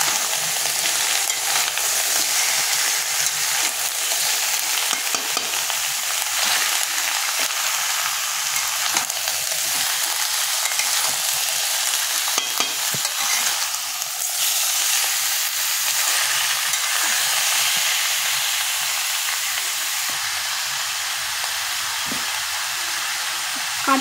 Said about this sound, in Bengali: আবারও আমরা খুন্তির সাহায্যে নেড়ে নেব।